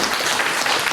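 An audience at a talk gives a burst of applause for the speaker Philippe Bloch, a dense, loud patter of many hands clapping together throughout.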